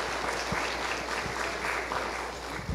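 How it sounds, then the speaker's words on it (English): Audience in a church service applauding a child receiving a medal, a steady continuous patter of clapping over a low hum. "So if you guys want to give Cora a quick round of applause."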